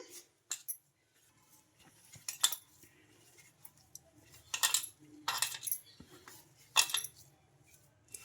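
A spoon scrapes and clinks in a bowl as gram flour is mixed into potato paste for aloo bhujia, with bursts of clatter between quiet pauses.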